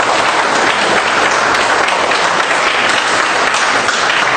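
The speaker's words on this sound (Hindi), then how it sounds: "एक बार जोरदार ताली बजा दो जरा।" Loud, dense applause from an audience at a Vestige network marketing business meeting, a steady roar of clapping that holds for the whole stretch without any talk.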